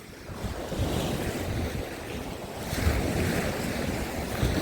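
Sea waves wash onto the shore at Fontanka near Odesa in winter, a steady broad surf roar with wind buffeting the microphone, rising and falling in gentle surges.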